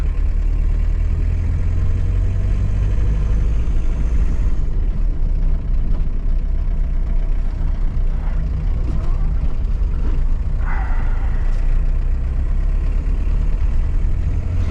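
A Peugeot 309 runs while driving on Indian roads, its engine giving a steady, continuous drone at fairly low level throughout, with no talk over it.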